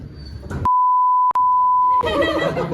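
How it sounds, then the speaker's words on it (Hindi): A steady censor beep tone runs for about a second and a half, briefly broken once, cutting off chatter at a college fest farewell; voices are heard before and after it. "वो बीप बीप, वो बीप"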